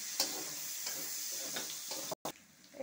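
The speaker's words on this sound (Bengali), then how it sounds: "এইগুলো সব আমি ভালো করে ভেজে নেব" Crushed garlic and green chillies fry steadily in a pan for a lottery gourd and prawn curry, a continuous close sizzle broken by a few soft stirring scrapes and one brief dropout near the end.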